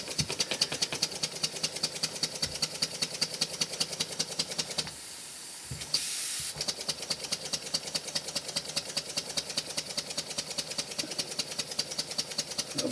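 A small wig-wag duplex twin-cylinder model steam engine runs with a fast, even chuffing beat and constant hiss. Partway through, the chuffing pauses for about a second and is replaced by a steady rush of steam before the rhythm resumes, close and clear.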